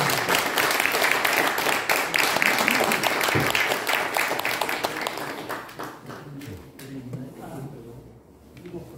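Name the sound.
audience applause welcoming a lecturer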